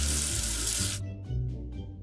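Water splashes in a steady hiss as soap is rinsed off a letter in a children's alphabet game, pouring for about a second and then cutting off into softer, broken splashes.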